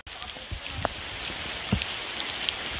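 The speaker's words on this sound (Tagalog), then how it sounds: "maulan na naman katulad nung punta namin, maulan" Rain falling at Macagba waterfalls, a continuous soft hiss of drops with a few sharper nearby splashes, steady and moderately loud with no voices.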